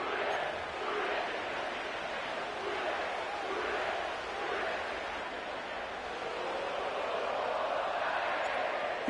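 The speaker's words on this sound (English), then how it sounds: "sellout crowd has arrived at Paycor Stadium in Cincinnati." Sellout stadium crowd at Paycor Stadium in Cincinnati in the Madden 25 football video game: a continuous, loud, roaring crowd swell that holds steady throughout, with broadcast-style commentary over it.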